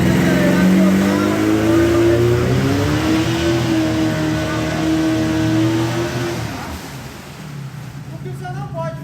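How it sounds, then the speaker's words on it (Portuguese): Outboard 30HP motor in its break-in period, in gear and pushed to full throttle, roaring loud and steady with a rising pitch before easing off, water and wind noise around it. "A aceleração do motor, mesmo ele estando em período de amaciamento, esquentou o motor, engatou,"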